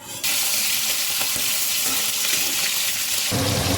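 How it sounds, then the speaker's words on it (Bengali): Fish sizzles loudly in hot oil in a wok, a dense steady frying hiss that starts abruptly and continues close up, with faint stirring clicks underneath. "আর মাছটাকে ভেজে নিচ্ছি।"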